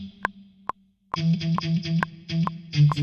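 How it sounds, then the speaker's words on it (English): Guitar chops in a modern reggae beat with reverb added, a few sparse plucked notes at first, then a steady rhythmic run of short, bright, repeated stabs with a roomy tail, loud and alone. "and then we're gonna add some reverb to that"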